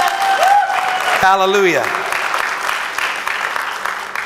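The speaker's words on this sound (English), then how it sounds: "Give the Lord a big clap offering." A church congregation breaks into loud, steady clapping during a worship service, the dense applause carrying on throughout while one voice shouts out over it and a brief sung tone rises near the start.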